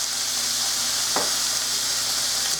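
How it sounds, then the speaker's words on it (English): Chicken pot pie filling sautés in a pan with a constant bright sizzle, and a single scrape of stirring cuts through midway. "Saute that up a little bit."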